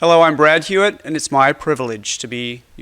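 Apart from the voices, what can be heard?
No everyday noises stand out.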